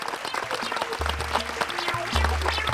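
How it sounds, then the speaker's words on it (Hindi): Children clapping loudly at a magic show, a brief burst of hand claps mixed under booming music notes. "बच्चों बजाओ जोर से ताली"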